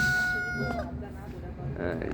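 A white rooster's crow rings out briefly at the start, followed by scattered clucking and background voices nearby.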